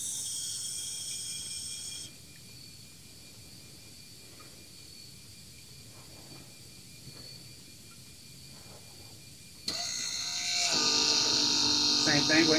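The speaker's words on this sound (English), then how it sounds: "So now we're going to wait until we hear the pump stop" The ABS brake actuator pump of a 2010-2015 Toyota Prius runs with a low steady electric hum, then a louder whirring motor sound starts abruptly near the end, heard close.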